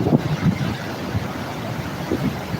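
Steady wind roaring across the microphone beside icy Niagara Falls in winter, a constant close rush with slight gusting and no voices.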